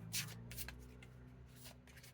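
Tarot or oracle cards are shuffled by hand in soft, quick riffling bursts, about five or six brushes in close succession, quiet and near.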